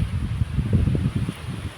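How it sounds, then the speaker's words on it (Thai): Steady gusting wind rushing through mountain trees, a low rumbling roar with rustling that rises and falls, close to the microphone. "เรามาฟังเสียงลมนะคะ"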